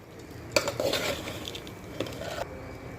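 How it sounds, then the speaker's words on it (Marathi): Rice and potatoes being mixed in a pot for Maharashtrian masale bhat, giving a couple of scraping, clattering bursts of stirring against the metal pot, fairly close, with a quieter gap between them. "आता हे दोन्ही गोष्टी ना चांगले मिक्स करून घ्यायचे"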